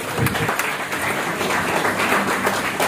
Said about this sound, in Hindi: नागिया सर का भी सर प्लीज तालियों में कोई कमी न रखें।